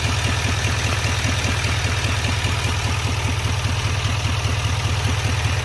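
Spelab-equipped 6.6L Duramax diesel idling while it warms up, a steady, even, rhythmic low clatter and rumble that stays loud and close throughout with no voices.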